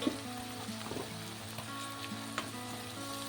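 Sliced onions frying in a pan with green chillies, turmeric and salt give a steady close sizzle and crackle, with a few soft scraping stirs on top.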